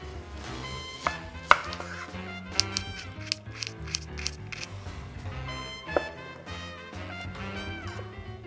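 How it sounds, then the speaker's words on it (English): A knife chopping an onion on a cutting board in quick irregular taps, with a few sharper knocks standing out over faint background music. "we will begin by chopping half"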